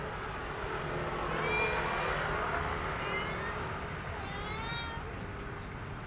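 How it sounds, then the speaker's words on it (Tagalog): Several meows from a mother cat with kittens rise and fall over a steady background hum, some drawn out and plaintive, with no talking. "Humingi sa akin ng tulong tong pusa"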